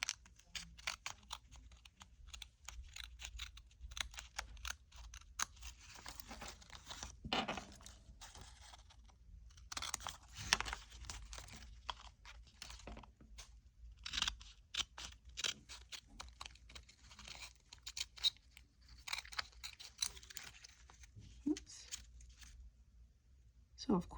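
Scissors snip through paper for a junk journal project, a clothespin serving as the cutting guide, with repeated quiet crunching cuts and rustles at an irregular pace, close and soft.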